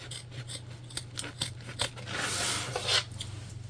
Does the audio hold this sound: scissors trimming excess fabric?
yes